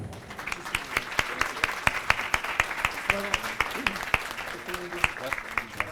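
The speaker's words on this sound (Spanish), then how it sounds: "Lo despedimos con un cálido aplauso." Audience applause at a book presentation on electoral justice, with many separate sharp claps at a moderate level while people talk over the clapping throughout.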